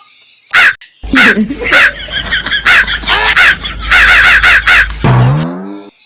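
A person imitates a crow with loud caws in a rapid string of harsh calls, close by, over a steady low rumble, ending with a drawn-out nasal cry.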